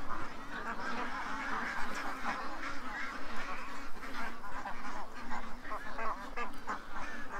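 A flock of ducks quacks almost nonstop, many birds calling over one another in a dense, steady outdoor chorus at moderate volume.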